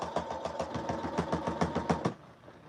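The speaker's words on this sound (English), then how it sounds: "I kind of always just feel for the fabrics underneath to make sure I'm sewing through all the layers" Sewing machine stitching a collar seam, a steady rapid mechanical thumping of the needle running continuously up close for about two seconds, then stopping abruptly into quiet.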